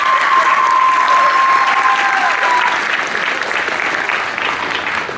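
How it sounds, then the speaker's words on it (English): Loud, sustained applause from a large crowd at a 2025 high school senior graduation ceremony, steady dense clapping filling the hall throughout and easing slightly toward the end. "Another round of applause for all of you."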